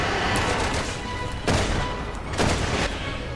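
Heavy gunfire aimed at Simmons in the video game Resident Evil 6, a dense, roaring barrage with two louder bursts standing out.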